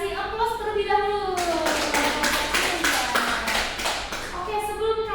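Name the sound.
classroom applause for a student's answer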